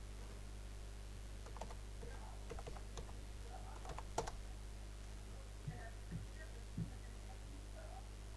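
Scattered keystrokes and clicks on a computer keyboard, faint and irregular over a steady low electrical hum, with a few louder taps near the middle and end.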